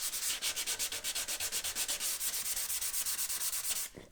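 A Stratocaster guitar neck's sprayed finish being hand-sanded with 400 grit paper, giving quick, even back-and-forth rubbing strokes, about five per second, close and soft, stopping just before the end with no talking.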